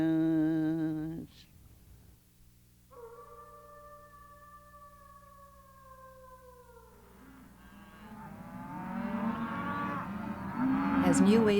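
Cattle in a farm valley give several drawn-out moos, one after another with quiet gaps between, building to a louder, busier stretch of lowing at the end.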